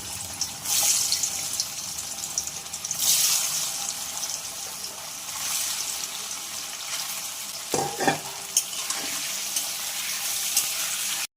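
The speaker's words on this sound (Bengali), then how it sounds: "তেল গরম হয়ে গেছে, এবার পনিরগুলোকে ভেজে নেব।" Paneer frying in hot oil in a kadai, a steady broadband sizzle running throughout with brief louder bursts and a few clinks as pieces are stirred.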